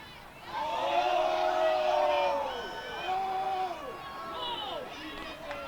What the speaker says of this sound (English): That draws a reaction from the crowd.